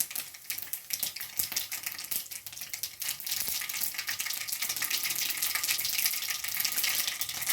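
Mustard seeds and cumin spluttering in hot oil for a tempering, a dense crackling sizzle with sharp pops that grows steadier and louder, close and with no talk.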